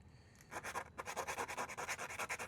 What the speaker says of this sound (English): Let's take some sandpaper.